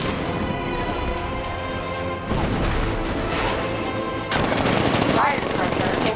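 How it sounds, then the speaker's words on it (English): A tank's 60mm cannon firing in the video game Batman Arkham Knight, loud rapid bursts of heavy gunfire with sharp blasts, continuous across the clip and getting harsher toward the end. ".60mm cannon operational."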